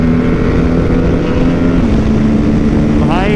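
A Mahindra Mojo motorcycle engine drones steadily and loudly while riding in Bangalore, with heavy wind rush across the microphone throughout.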